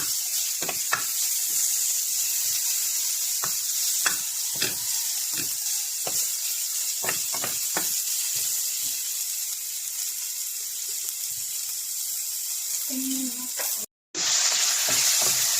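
Onions frying in a pan, a close steady sizzle punctuated by repeated clacks and scrapes of stirring, then a brief knock and a sudden cut near the end; no one speaks.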